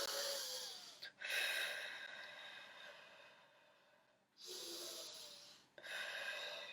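Deep breaths in and out during an abdominal exercise, long airy exhales and sharp inhales, close and fairly quiet, alone without speech.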